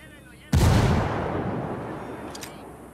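A grenade blast in the Ghost Recon Wildlands video game: one sudden loud boom that rolls off into a decaying rumble, followed by a couple of faint sharp cracks.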